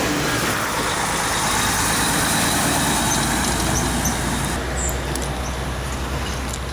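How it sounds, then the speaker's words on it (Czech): Steady roadway noise from a passing vehicle, a loud continuous engine and tyre rumble with a broad hiss, close by and constant throughout with no talk. "Teď mě tady ruší auto."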